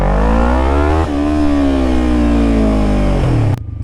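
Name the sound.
motorcycle engine while riding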